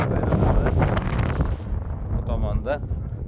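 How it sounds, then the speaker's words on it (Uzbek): Strong wind buffets the microphone in heavy, rumbling gusts close up, easing after a moment, with a voice speaking underneath. "bu tomonda Jomda shamol shunchalikda kuchli, odamni uchiradigan darajada."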